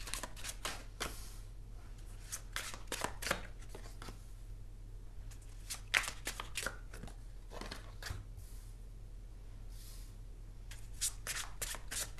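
Tarot cards being shuffled and handled at a reading, with soft papery riffles and light taps scattered irregularly and heard faintly and close.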